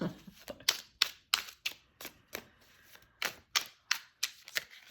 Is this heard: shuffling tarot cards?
yes